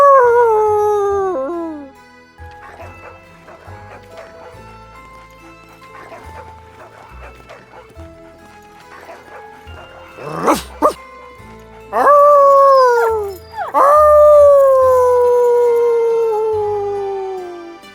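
A dog in the video game Everlight howls and whines in long, wavering tones near the start. Yelps and barks follow, then loud drawn-out howls near the end over faint game sounds.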